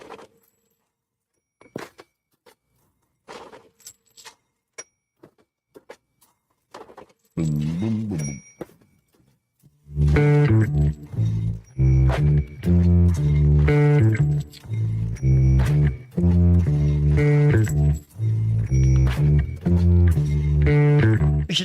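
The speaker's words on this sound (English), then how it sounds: "a cover band with 3 people sitting on the floor using a toy cash register, an electric dollar bill counter, a bowl of change" A three-person cover band plays an intro with a toy cash register, an electric dollar bill counter, a bowl of change and paper checks: sparse clinks and clicks at first, then a louder, dense rhythmic pattern.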